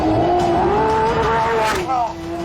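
A Lamborghini supercar with supercapacitor hybrid assistance accelerates hard, its loud engine note climbing steadily through the revs before shifting and settling, close and sustained, with a brief whoop from the driver.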